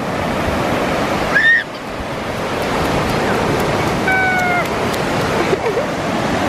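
Ocean surf washes steadily onto a beach, a continuous loud roar of breaking waves with wind buffeting the microphone, while a dog whines and a brief high whistle-like cry cuts through.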